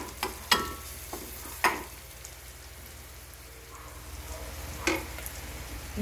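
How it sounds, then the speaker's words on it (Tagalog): Food is sautéed in a pan with chili: a soft, steady sizzle under a few sharp scraping stir clicks, close by, with no voices. "Yan, igigisa lang natin yan."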